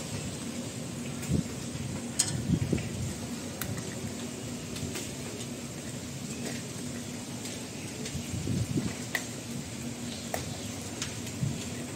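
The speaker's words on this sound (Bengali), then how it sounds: "বাইরে তো প্রচন্ড বৃষ্টি, ঝড়ো বাতাস" Heavy rain pours steadily outside, with gusts of stormy wind and a few sharp cracks and thumps breaking through the constant hiss, heard from indoors at a moderate level with no voices.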